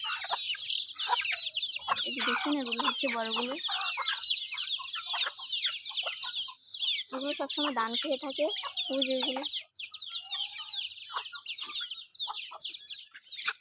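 Backyard chickens cluck and squawk continuously and close by, with a busy, overlapping chatter, while a person talks over them.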